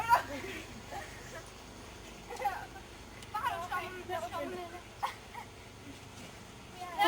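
A dog whimpers and gives a few short yips and barks, close by, while people talk quietly over it.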